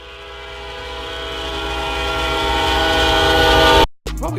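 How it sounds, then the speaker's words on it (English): Recorded train horn and rolling railcars automated to swell steadily from very quiet to loud over several seconds, a sustained tonal drone that cuts off abruptly near the end before brief other sounds. "MP3 of a train and just automated it, so it goes from, it basically does a crescendo, so it goes from very low to high"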